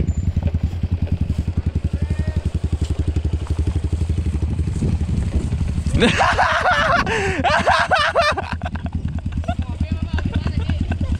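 A group of eleven trail motorcycles idles together nearby, a steady throbbing engine rumble that continues throughout, while people laugh loudly over it partway through.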